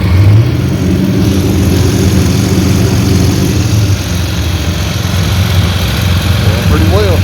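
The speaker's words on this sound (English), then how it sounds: "our little generator still trucking along." A PowerSmart 4400W generator runs steadily at close range, a loud, even engine drone with a low rumble that holds without change, while a voice talks over it.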